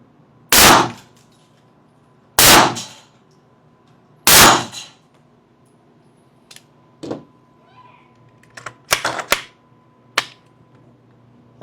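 A Scorpion Evo gun fires at an indoor range: three loud, sharp, evenly spaced shots, then scattered quieter pops and clatter from other firing nearby.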